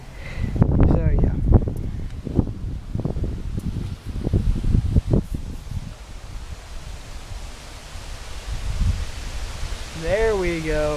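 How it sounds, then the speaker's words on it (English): Strong wind during a wind advisory in Prattville, Alabama rushes through tree leaves as a steady, loud rustling roar, with someone talking over it for much of the time. "That's a good wind right there."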